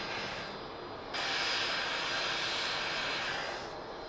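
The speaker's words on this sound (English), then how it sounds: "Heraklion bound Jet 273, just also skipping across the runway with a aircraft on the approach as well" A jet airliner taxis across the runway at Manchester Airport, a steady loud engine roar and whine from outdoors that swells briefly and holds, with no talk.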